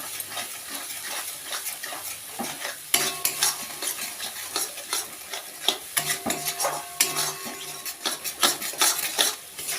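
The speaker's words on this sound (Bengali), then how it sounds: "লঙ্কার গুঁড়ো জিরে ধনে গুঁড়ো হলুদ আর নুন দিয়ে এবার এটাকে ভালো করে কষাবো" Chili, cumin and coriander powders with turmeric and salt are stirred and sautéed in a pan, with repeated scraping and clinking strokes of a utensil over a soft, continuous sizzle, close and rhythmic.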